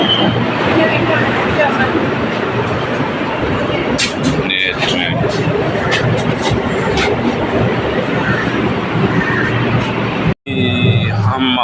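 A Kuala Lumpur LRT train rolls along with a loud, steady rumble and rattle, brief squeals and clanks, and a sudden short drop near the end. People speak over the train noise.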